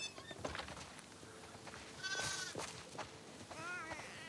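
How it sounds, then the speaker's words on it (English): Sheep bleating on a farm in the video game The Last of Us Part II, several wavering bleats from near and farther animals, the last one quavering and drawn out, over soft outdoor ambience. "Listen up, sheep. Your dinner awaits you in the barn"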